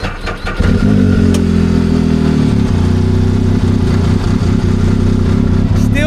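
A motorcycle engine sputters to life and then idles loudly and unevenly nearby, its rough, lumpy rumble continuing without pause.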